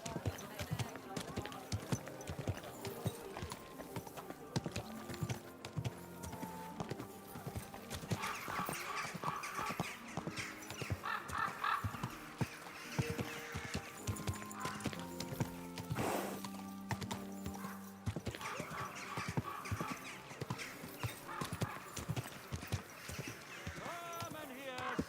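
Horse hooves clip-clopping in the video game Kingdom Come: Deliverance 2, a steady rhythmic trot of hoofbeats continuing throughout amid medieval town ambience and music, with voices talking over it.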